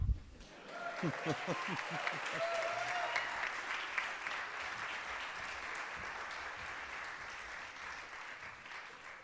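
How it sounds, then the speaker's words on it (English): At a School of Music convocation, an audience applauds scholarship recipients as they leave the stage. A voice is briefly heard at the start, then sustained, even clapping from a large crowd continues for several seconds. "So give them more applause while they leave the stage."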